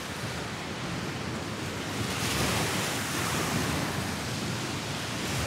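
Sea waves wash onto the shore at Ķesterciems on the Latvian coast, a continuous broadband roar of surf mixed with wind buffeting the microphone, swelling slightly midway, without voices.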